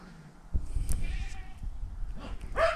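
Goats on a farm, one of them in labour, bleat in short nasal calls, with a sharper, louder bleat near the end over steady farmyard background noise.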